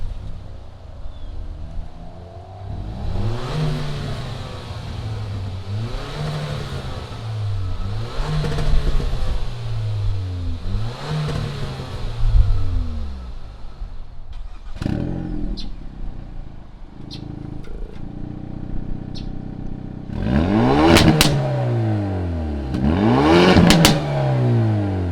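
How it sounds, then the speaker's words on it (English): The engines of a 2020 Hyundai Veloster N and a 2020 Veloster Turbo rev repeatedly, with a rhythmic series of rising and falling revs, then a pause with light clicks, then sharper, higher revs, loud and close. "Let's fire up these two Velosters and hear what they sound like."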